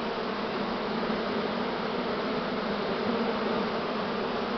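A large prime swarm of Buckfast honeybees lands, filling the air with a dense, continuous buzzing drone of countless wings, close and steady, with no speech.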